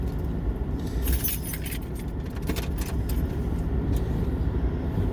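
Keys jangle in the car's ignition in a few light metallic shakes over the low hum of the car interior, with no one talking.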